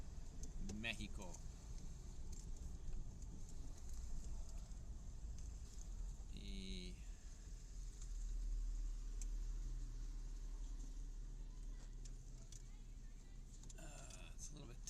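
A car drives slowly through narrow downtown streets of Guaymas, Sonora, Mexico, with a steady low engine hum and road rumble throughout, a few brief clicks and rattles, and someone talking over it.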